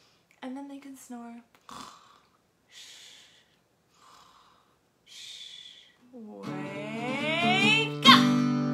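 A voice imitating a snoring dinosaur during a preschool movement song, with breathy snorts and gasps, then a long rising, rasping snore that swells loudly near the end.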